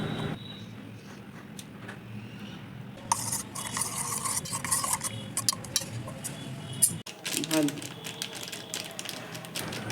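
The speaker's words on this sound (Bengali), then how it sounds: "টিফিন বক্সের মধ্যে আমি সরিষা বাটা, পোস্ত বাটা, টমেটো বাটা আর কাঁচা লঙ্কা দিয়ে ভালো করে মিশিয়ে নিচ্ছি" Mustard paste, poppy seed paste, tomato paste and green chilli being mixed inside a tiffin box, giving scraping, clinking stirs against the container that are loud in the middle stretch, with a voice talking over parts of it.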